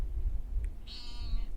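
Cat meowing in seaside Ulcinj, Montenegro, a single short close meow rising over low rumbling background noise.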